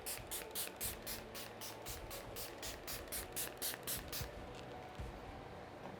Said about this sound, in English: I'm just going to cover that and then spray it all over my face.